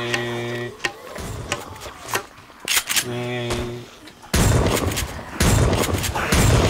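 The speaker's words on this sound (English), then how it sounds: "I was shooting on the zombie" Gunfire in the zombie survival game 7 Days to Die: several sharp shots in a short burst, fairly loud, with harmonic game tones and dense noise that swells toward the end.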